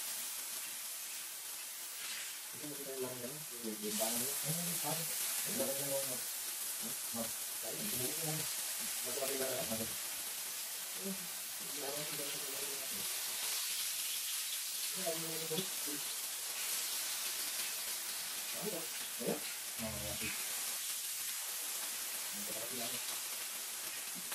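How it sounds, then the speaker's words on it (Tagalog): Beef bulgogi sizzles steadily in an oiled pan, a constant soft hiss running throughout while a person talks over it. "lalagyan ko lang siya ng konting mantika yung ating pan para sizzling"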